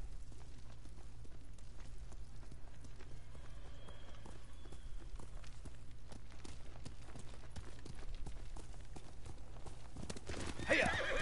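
A horse named Noble clip-clops along in a steady rhythm and lets out whinnies over a constant low background drone, with a louder burst near the end.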